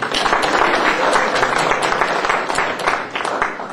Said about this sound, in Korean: 우리 경례 박수 한번 해주세요